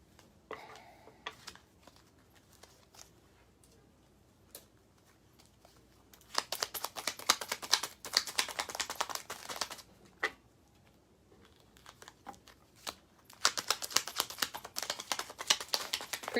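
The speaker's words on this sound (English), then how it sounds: "let me just shuffle these real quick" Tarot cards being shuffled by hand in two bursts of dense, crisp riffling and flicking, close and fairly loud, separated by quieter handling with a few taps; no one talks.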